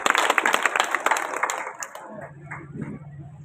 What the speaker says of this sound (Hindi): एक बार जोरदार ताली अपने आपके लिए